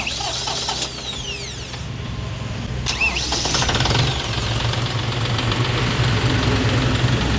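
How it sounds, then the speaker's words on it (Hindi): A 2025 John Deere 5050 D 4WD tractor cranks with a short whining starter, catches, and settles into a steady, loud diesel idle, heard up close with no talking. "तो कर लेते हैं ट्रैक्टर को स्टार्ट।"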